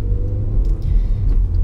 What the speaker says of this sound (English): We tow this car right now that I'm driving.